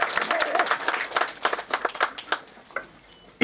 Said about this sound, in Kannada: ನಂಜೇಗೌಡರಿಗೆ ಜೋರಾದ ಚಪ್ಪಾಳೆ ಬರಬೇಕಾಗಿ ವಿನಂತಿ